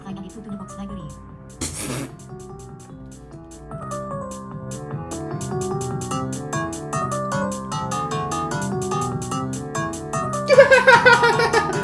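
Upbeat electronic music from the game Hypnospace Outlaw plays throughout with quick melodic notes, a sharp burst of noise near the start and busier sounds toward the end.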